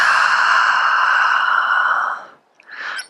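A long, deep exhale during a yoga session, loud and close, followed after a brief pause by a short inhale.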